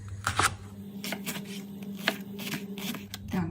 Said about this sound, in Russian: Нарезаем порей.